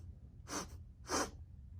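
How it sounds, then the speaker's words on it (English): Two quick sniffing breaths drawn in through the nose, close and fairly soft, spaced about half a second apart with quiet between them. "Take quick little bunny breaths in through your nose."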